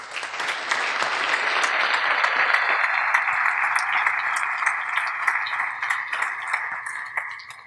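An audience applauds the NIC Costa Rica and LACNIC staff at a meeting, a dense, sustained round of clapping that swells quickly, holds steady and fades out at the end.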